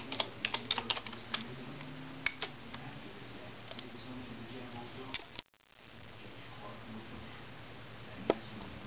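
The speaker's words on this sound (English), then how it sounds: "Type in YouTube." Typing on a computer keyboard, a quick run of close clicky keystrokes for about five seconds before the sound cuts to near silence, then a single click near the end.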